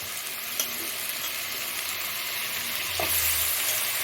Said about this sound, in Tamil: இந்த ப்ரக்கோலியை போட்டுடலாம்